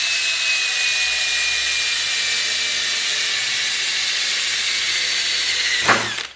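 A power drill with a 1/8 bit grinds loudly and continuously through sheet metal, close by, then winds down abruptly near the end.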